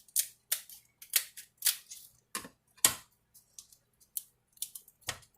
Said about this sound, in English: Split it down the middle with the scissors